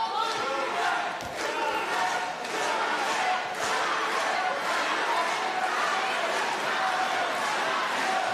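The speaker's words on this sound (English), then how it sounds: "Chance for this crowd to make a bit of noise." Crowd noise in a goalball arena at the Paris 2024 Paralympics women's semifinal, a broad steady roar of cheering and chatter from the stands during a break in play, with a few sharp shouts and thuds standing out.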